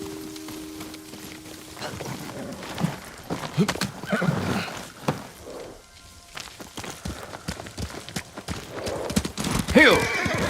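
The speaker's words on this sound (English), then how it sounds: "Kazumasa, I do enjoy our rides together." In the video game Ghost of Tsushima, a horse gallops with close, heavy, rhythmic hoofbeats and gives loud neighs and whinnies, with the clatter rising and falling throughout and some voices partly beneath it.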